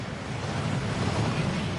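A steady, dense rush of falling water from a waterfall inside the Gringotts vaults in the Hogwarts Legacy video game, a continuous roar with no pauses and no voices.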